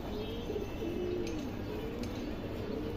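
Pigeons coo softly in a loft among birds kept for sale, low repeated calls running through steady background noise, with faint chirps here and there.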